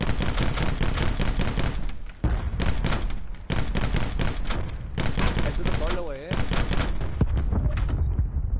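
Rapid bursts of automatic gunfire from a video game, loud and close, in several long volleys broken by brief pauses, with voices talking over it.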